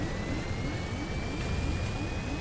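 A passenger airplane flies during a Stranded Deep cutscene, its engine roar a loud, steady broadband drone with a faint high whine, continuous from start to finish.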